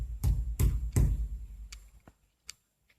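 Three loud, sharp knocks in quick succession ring out in a quiet room during a ghost hunt, each leaving a short decay, followed by a few fainter taps and near silence.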